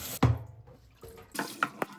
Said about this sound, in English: gave it a quick rinse